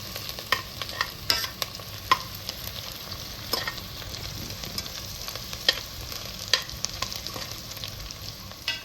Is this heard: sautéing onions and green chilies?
yes